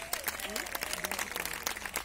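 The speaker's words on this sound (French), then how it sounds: "Encore une fois, un maximum d'applaudissements" Audience applause at a fashion week show, a steady wash of many hands clapping throughout, with voices talking over it.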